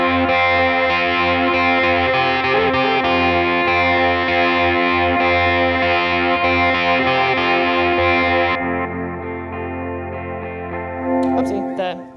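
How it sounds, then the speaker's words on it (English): Electric guitar through a fuzz pedal with the fuzz turned down and volume up, a sustained distorted chord ringing loud and close before dropping off, with a brief burst at the end. "Kind of my definitive fuzz sound."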